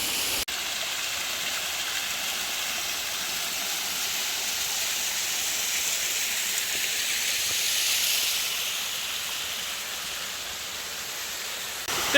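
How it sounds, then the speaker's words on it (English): Continuous broadband rush of a waterfall on a hiking trail, a steady hissing roar heard close and unbroken, swelling slightly near the end. "Goodbye, pretty waterfall."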